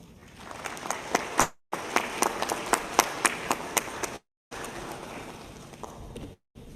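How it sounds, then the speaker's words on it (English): An audience at a ministers' induction ceremony in Zambia applauds the President, with scattered sharp hand claps over a soft crowd murmur, cut by brief silent gaps. "Can we give the President another round of applause, please?"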